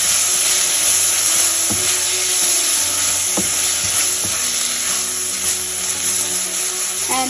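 A vegetable mixture with chili vinegar is stirred and fried in a pan, giving a loud, continuous sizzle with occasional scraping knocks of the spoon against the pan.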